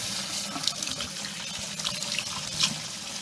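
Tap water runs steadily into a sink while hands are washed with rosemary mint soap, a close, constant splashing hiss with small bursts of splatter and no voices.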